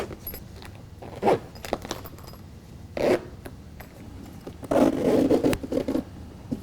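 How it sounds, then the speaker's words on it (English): Sides of a BedTred full truck bedliner are zipped to the floor piece in several short, rasping zipper pulls with quiet handling noises between them. "we're going to attach the sides and the bulkhead to the floor portion and just zip it together."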